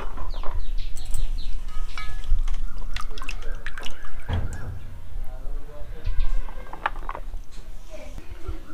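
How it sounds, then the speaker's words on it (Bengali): Soaked potatoes are lifted out of cold water in a home kitchen, with splashing and irregular drips and trickles close by, while someone talks over the sound. "এবার আমি জল থেকে তুলে নেব।"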